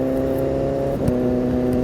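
BMW S1000RR motorcycle with an SC Project exhaust, a loud steady engine drone with a brief dip and recovery midway, close and continuous with no talking.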